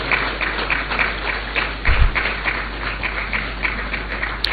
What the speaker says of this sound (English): Please let's welcome them and encourage them with a round of applause.